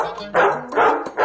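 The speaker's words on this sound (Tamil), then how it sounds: "உள்ள நாய் இருக்க" A dog at a house barks three times in quick, evenly spaced bursts, loud and close, with brief pauses between the barks.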